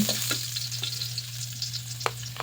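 Garlic and ginger sautéing in a pan for a milkfish dish, a close, steady sizzle of frying broken by a few sharp stirring clicks and scrapes, with no voices.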